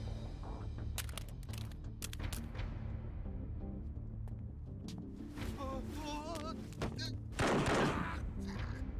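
Pistol shots in Yakuza 4 Remastered: a quick series of sharp gunshot cracks early on, followed by in-game voices and a louder burst of noise, all at moderate volume.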